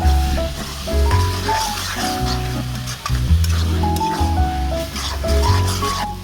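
Cumin paste and ginger-garlic paste frying in oil while being stirred for an egg curry, a loud continuous sizzle with scraping strokes heard under prominent background music.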